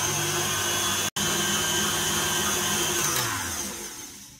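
An electric mixer beats pavlova meringue with 2 teaspoons of white vinegar added, a steady loud whirring motor drone that runs continuously, broken by one brief cutout early on, then eases slightly toward the end.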